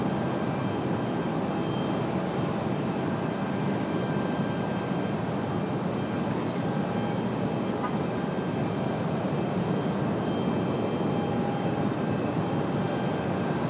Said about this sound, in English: Aer Lingus headed out to the end of the runway